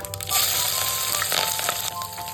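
Cut green chillies fry in hot ghee with a steady, close sizzle that runs unbroken for a couple of seconds.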